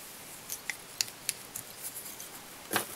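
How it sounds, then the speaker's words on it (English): Scissors snipping off stalks while tying a Tanuki Tulchan Shrimp fly: several crisp, close snips in an irregular rhythm, alone with no talk. "Snip off the stalks."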